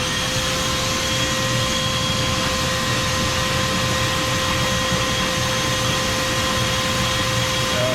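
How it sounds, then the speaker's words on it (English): A shop vac runs steadily and loudly while cleaning a koi pond filter, a constant droning roar with a thin high whine and no break, no voices. "Turn on the shop vac."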